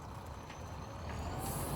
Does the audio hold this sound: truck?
yes